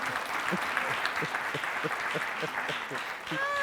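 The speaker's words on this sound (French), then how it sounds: "Je vais vous demander beaucoup d'applaudissements pour ce garçon." An audience in a French-language TV studio show claps steadily, a dense sustained round of applause with some voices mixed in and a brief musical tone near the end.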